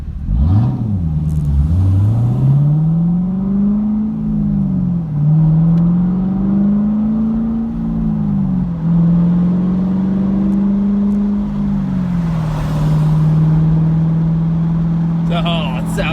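Chevrolet Camaro SS 1LE with an x-pipe and with the resonator and muffler deleted, a loud, deep exhaust drone rising and falling through several gear changes while driving, then settling into a steady cruise.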